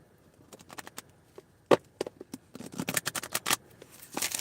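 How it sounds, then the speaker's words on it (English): A deck of playing cards is shuffled close up, with quick crisp riffles and snaps that build into a denser flurry of flicking near the end, no voices. "last shuffle"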